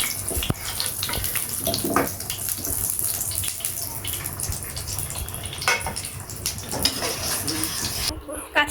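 Liquid pours steadily onto Korean spicy ramen in a glass bowl in a home kitchen, a continuous soft splashing trickle heard close up that runs throughout and cuts off near the end.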